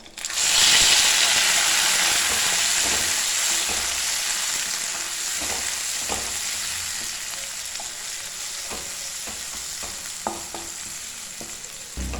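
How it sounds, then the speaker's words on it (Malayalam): Finely chopped tomatoes hit hot oil with dried chillies and curry leaves for a Kerala rasam, setting off a loud, bright sizzle that fades slowly to a steady crackle. Occasional spoon clicks and scrapes come through, and nobody speaks. "ഇനി ഇതിലേക്ക് നമ്മൾ ചെറുതായിട്ട് കട്ട് ചെയ്ത് വെച്ച തക്കാളി ചേർത്ത് കൊടുക്കാം"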